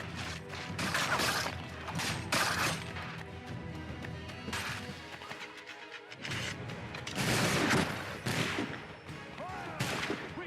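Musket volleys from a redcoat firing line in Assassin's Creed III crack out in loud repeated bursts, separated by brief lulls and layered over clashing combat noise.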